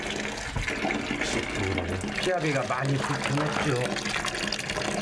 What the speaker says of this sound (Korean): 많이 씻고 그럴 때는 이렇게 샤워할 수 있는데 여기서